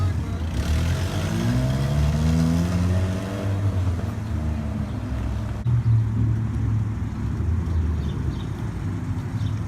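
A Honda Integra Type R revs up close and loud, its engine note rising and falling steadily, cutting out briefly partway through and then continuing at a lower idle.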